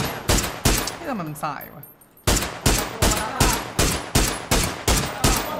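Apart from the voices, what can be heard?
gunfire in the video game PUBG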